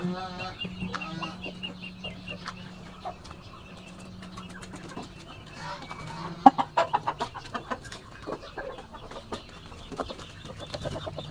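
Chickens cluck and murmur in a small backyard coop, with a burst of louder clucks partway through over a steady low background hum.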